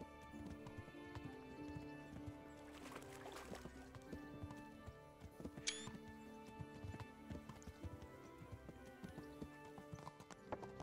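Horses walk in the medieval video game Kingdom Come: Deliverance, a steady clip-clop of hooves with an occasional whinny, layered over quiet ambient game sound.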